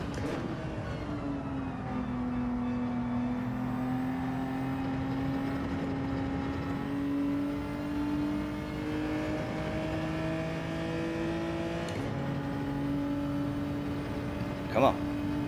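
A race car engine in Gran Turismo 7 on a Kyoto track holds a steady, slowly rising drone through a last lap, with a brief sharper shift near the end, someone speaking over it.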